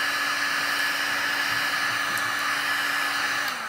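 A heat gun blows steadily on resin art, a continuous close, even whooshing roar with a faint whine, lasting throughout with no talk.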